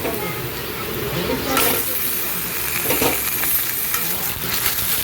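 Steady sizzling of chicken frying with browned onions in a hot pan, with stirring and scraping noises rising and falling throughout.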